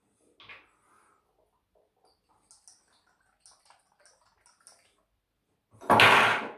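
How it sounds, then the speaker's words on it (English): A double-edged safety razor knocks over near the end with one loud, close clatter, after a stretch of quiet small taps and handling noises in a bathroom. "just knocked another one of my razors over"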